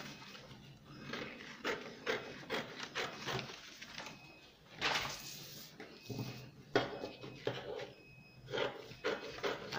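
Scissors cutting through a paper pattern along the princess armhole line while drafting an asymmetric-neckline cape, heard as a steady run of close, crisp snips and paper rustles without talk.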